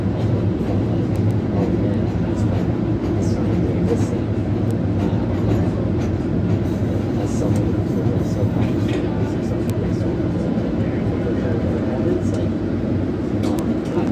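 An MBTA Green Line Type 8 Breda light rail train runs between stops toward Medford/Tufts, a steady low rumble and hum of motors and wheels on track, with occasional clicks and rattles of the car interior throughout.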